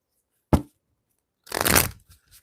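Tarot cards being shuffled: one short crisp flick, a pause, then a longer riffling burst close by with a few faint trailing taps.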